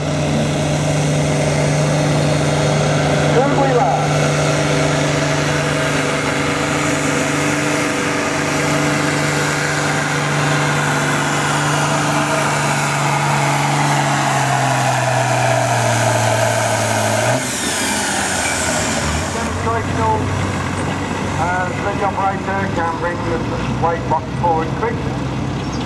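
Loud, steady engine drone from a tractor at a tractor-pulling contest at the Great Dorset Steam Fair, a sustained pitch that slides lower, then changes sharply as the run ends, with an announcer talking over it throughout.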